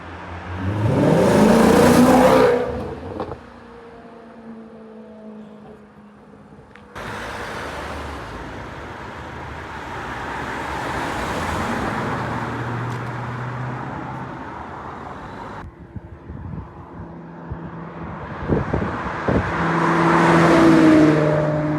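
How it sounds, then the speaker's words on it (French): Maserati car with an M560 V10 engine revving hard in several loud bursts, each rising and fading, with steadier engine drone between them and no talk. "Très violent la Maserati"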